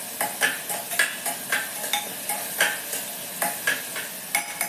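Salted onions fry in a pan for mutton keema curry under a steady sizzle, while a spatula scrapes and stirs in quick, regular strokes close by, with no voices.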